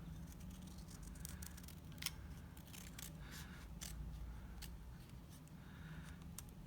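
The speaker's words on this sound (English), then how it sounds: "And then I'm going to cut it up the middle." Scissors snip through paper while making journal embellishments, a series of quiet, crisp cuts with scattered sharp clicks over a soft background, close but faint.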